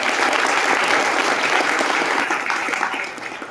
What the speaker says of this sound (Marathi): त्यांच्यासाठी सर्वांनी एकदा टाळ्या वाजवून